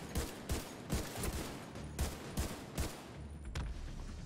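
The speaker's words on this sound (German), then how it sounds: "ich schieße auf die, hab auf die Behälter geschossen" Gunfire from The Division 2 video game, shooting at containers, rings out as a series of about nine sharp, separate shots at an uneven pace, fairly faint and with no talking over it.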